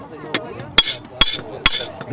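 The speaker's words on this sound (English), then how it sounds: "So the hammer blows, push the lead onto the die and carry the sheet of copper with it." Hammer blows driving a copper sheet over a lead backing onto a bronze die during metal chasing work: three or four sharp, ringing metallic strikes spaced about half a second apart, close and loud, with a faint lighter tap before them.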